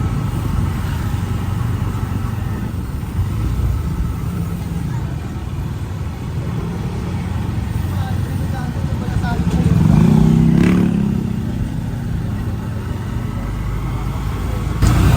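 Loud, steady engine drone from a motor tricycle carrying passengers on a road under a dark sky, with broad rumbling road noise and a slight swell in the engine sound partway through.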